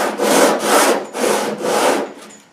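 Steady back-and-forth rasping strokes, about four long passes, of a sanding block scrubbing body filler on a 1975 Pontiac Firebird passenger door up close, with no voices.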